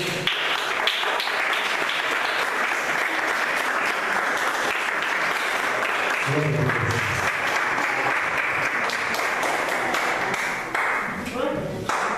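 Church congregation at a couples' gathering applauding, a long continuous roar of clapping from a large crowd with voices calling out beneath it, thinning slightly near the end.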